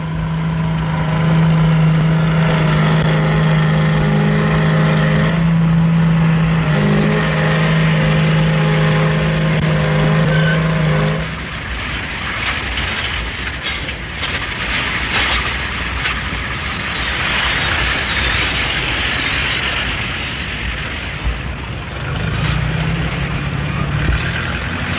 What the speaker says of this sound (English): The fleet of trucks delivers the ore to the crusher at the rate of 1 truck every 3 minutes.